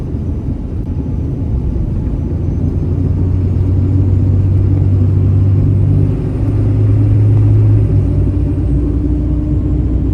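A Cummins diesel tow rig accelerating gives a loud, steady engine rumble heard from inside the cab, with engine pitch shifting slightly as the transmission changes gears.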